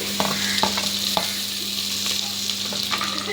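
Tomatoes go into a pan of frying chicken gravy, giving a loud, steady sizzle and frying hiss with intermittent stirring scrapes and clinks throughout, close up and without talk.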